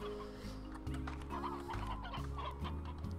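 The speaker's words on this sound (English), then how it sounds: "Yeah, seven briar hens." Briar hens in the video game Slime Rancher, a cluster of repeated clucks and soft squawks over a low droning game soundtrack, fairly near and moderately loud.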